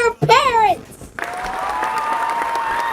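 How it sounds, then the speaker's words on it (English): At a lively talk-show style gathering, a loud rising-and-falling vocal whoop rings out, then after a brief pause an audience breaks into steady clapping and cheering that continues to the end, with a sustained tone underneath. "Everybody in the back clapping for that."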